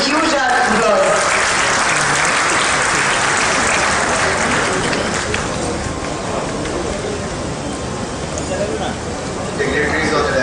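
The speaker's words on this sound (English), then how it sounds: "Please welcome our chief guest, Shri Anurag Singh Thakur ji," Large audience applauding loudly and steadily at a government sports event during a state investors summit in Lucknow, welcoming the chief guest; dense sustained clapping throughout, easing slightly midway and swelling again at the end.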